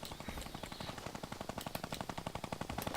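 Video game gunfire rattles in a continuous rapid automatic stream, dense and steady throughout, with no pause between the shots.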